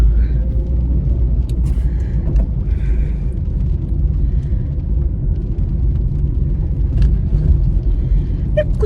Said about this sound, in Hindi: It feels so nice to drive the car again.